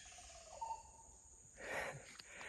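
A single bird call rings out twice over quiet outdoor background hum, moderately close, with a pause between the short phrases.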